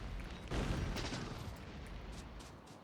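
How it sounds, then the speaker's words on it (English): Grenades thrown in combat in the video game Factorio: a muffled explosion swells about half a second in and then fades into a low, rumbling noise wash with faint scattered crackles, heard from a moderate distance. "Lobbing the grenades."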